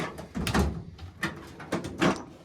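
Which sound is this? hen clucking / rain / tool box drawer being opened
tool box drawer being opened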